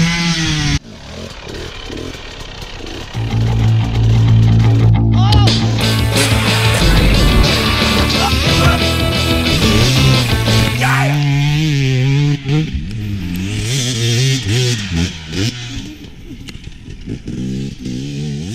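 A trolley minibike's small engine screams at full throttle, loud and buzzing with rising and falling pitch, then drops away after a crash into a fence and sputters on unevenly.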